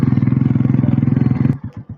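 A motorcycle in a village engine-thumps loud and close in a fast, steady putter, then cuts off abruptly into quieter sputters.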